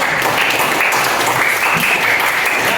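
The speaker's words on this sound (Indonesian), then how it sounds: "ya tepuk tangan dulu buat diri dulu" A school class applauds for themselves, a steady burst of dense, close clapping from many hands lasting a few seconds with no talk over it.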